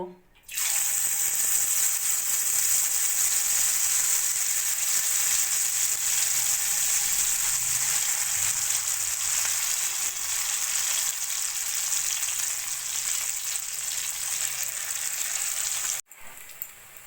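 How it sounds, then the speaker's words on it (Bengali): Loud, continuous sizzling of mustard-flower fritters frying in hot oil in a wok, a dense bright crackle that holds steady before cutting off abruptly near the end. "এবার আমি বড়াগুলো ভেজে নেব"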